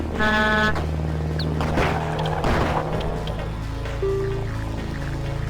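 A car in the video game Death Road to Canada sounds a loud, close horn with a sustained tonal honk over a constant low engine drone, set against layered game music and effects.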